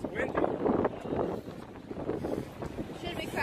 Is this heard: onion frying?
no